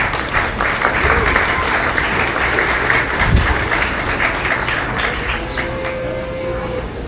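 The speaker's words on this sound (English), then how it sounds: "give these two exhibitors a round of applause" A crowd at a county fair cattle show gives a round of applause for two exhibitors, dense continuous clapping close and loud throughout, with a faint tonal hum late in the clip.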